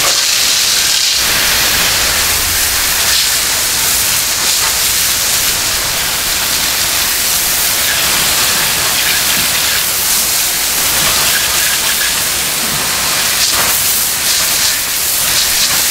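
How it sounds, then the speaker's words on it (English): Forced air blasts water off a freshly rinsed car tire, a loud, steady hiss of rushing air and spray that runs unbroken and close throughout. "I'm gonna use forced air"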